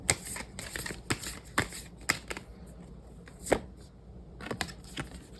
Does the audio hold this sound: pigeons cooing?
no